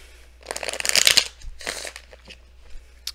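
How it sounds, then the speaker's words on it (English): Brief bursts of tarot cards being riffled and shuffled, two short rustling flurries up close, with quiet pauses between. "I pre-shuffled this already, so I don't have to shuffle this too much."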